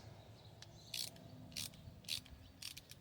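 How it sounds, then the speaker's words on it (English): Several quick ratcheting clicks from a screw being tightened on a Traxxas Rally Fiesta ST RC car slipper clutch, close and quiet, in short regular bursts about half a second apart. "tighten it down, don't go yam, just tighten it down, snug it down"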